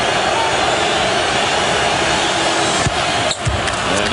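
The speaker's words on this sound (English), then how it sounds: "Crowd trying to distract Rasheed Wallace." Dense, steady roar of a basketball arena crowd during a 2008 Eastern Conference Finals game between the Pistons and Celtics, as fans try to rattle Rasheed Wallace at the free-throw line; a couple of brief thumps cut through near the end.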